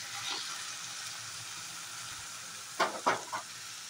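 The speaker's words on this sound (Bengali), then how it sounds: "এগুলোকে আমি বেশ কিছুক্ষণ নেড়ে চেড়ে ভেজে নেব" Chopped onion, garlic, tomato, green chili and potato stir-frying in a pan for a spinach dish, a soft steady sizzle with a few quick scraping stirs near the end.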